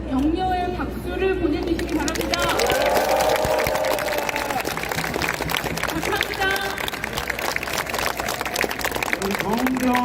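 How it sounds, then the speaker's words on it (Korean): A large outdoor campaign rally crowd in Gwangju claps and cheers in a sustained wash of applause, with a speaker's amplified voice talking over the noise. "현장에서 대응하고 있는 소방관들에게 여러분들 격려의 박수를 보내주시기 바랍니다"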